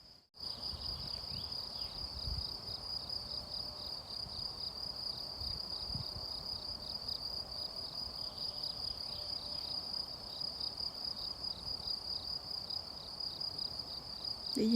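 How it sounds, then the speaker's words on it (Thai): A continuous high, shrill insect trill from crickets or grasshoppers on a Swiss mountainside, steady and unbroken over quiet outdoor background noise. "ไม่จิ้งหรีดก็ตะกะแตนนี่แหละ"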